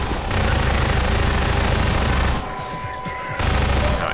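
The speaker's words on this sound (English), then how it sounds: "Now we get our first automatic gun here," A submachine gun fires in a video game, dense rapid bursts of loud close gunfire that stop for about a second and then resume.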